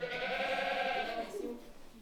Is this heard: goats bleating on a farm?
yes